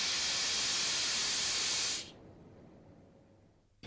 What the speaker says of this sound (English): Open the MR drain cock and drain the condensate from the cock.